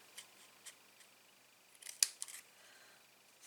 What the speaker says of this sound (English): let's get my scissors